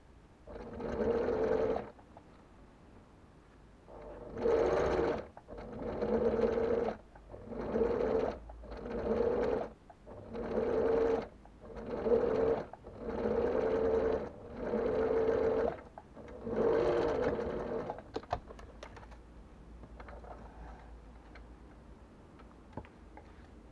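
A sewing machine stitches fabric for a school pencil case, set to a wide stitch with the fabric pulled taut. It runs in about nine loud, steady bursts separated by short pauses, with no talking.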